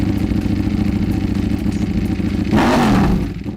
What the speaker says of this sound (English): the twin pulse firing order that gives this V4 engine its own distinctive sound